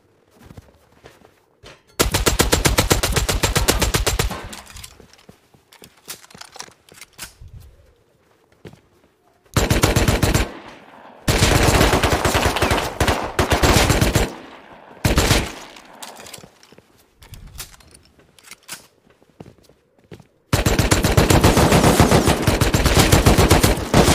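MP5 submachine gun fire in the survival video game Rust, loud sustained automatic bursts of several seconds each separated by quieter gaps with footsteps and scattered single shots, close and dominant.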